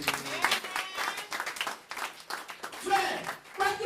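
A church congregation applauds God during a French-language service, giving scattered, uneven clapping mixed with voices and crowd murmur.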